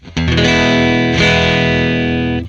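A clean guitar with no vibrato rings out as a sustained strum, a second strum landing partway through, the steady tone holding loud and unwavering before fading.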